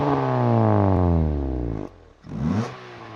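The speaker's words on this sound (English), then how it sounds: "Civics sound amazing with wide open exhaust" A Honda Civic Type R engine revs hard through a valved exhaust with a deep, rising note, drops off briefly, then surges again in a second loud rev.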